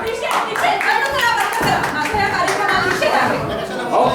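An audience at a Diwali stage discussion claps for a guest being called up, with a voice talking over the clapping throughout, the clapping rather steady.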